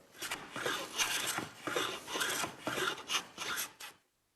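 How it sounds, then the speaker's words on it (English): A hand plane shaves a taper along a wooden mast in rhythmic rasping strokes, about eight close, even passes, each a scratchy swish, ending abruptly in silence. "We've finished doing our planing of the taper there now."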